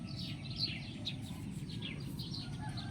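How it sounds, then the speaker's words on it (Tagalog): Birds chirping around a house, faint scattered tweets and calls over a low steady background rumble, with no voices. "Yung mga ibon namin dyan, oh."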